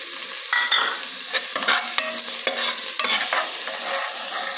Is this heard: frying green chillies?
yes